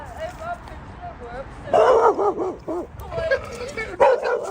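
A dog barks and yips in short, loud, close bursts with some whimpering, while people talk over and around it.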